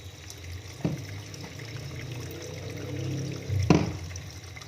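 Water pours into a basin to make a detergent solution for soaking a facepiece respirator, heard as a close, steady running wash with two louder splashy surges and no talk.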